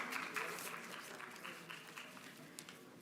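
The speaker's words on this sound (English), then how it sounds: "If we can, with a round of applause." Faint, distant audience applause at a business forum as speakers, including a shea butter producer, are welcomed to the stage, a soft continuous patter of many hands.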